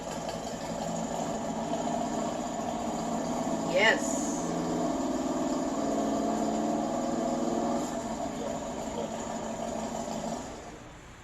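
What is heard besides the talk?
motorcycle engine starting and idling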